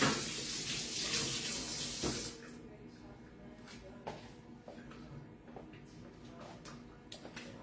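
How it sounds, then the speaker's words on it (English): Running tap water in a kitchen sink as hands are rinsed, a broad steady wash for the first two seconds, then quieter dripping and small clatters. "Let me rinse my hands."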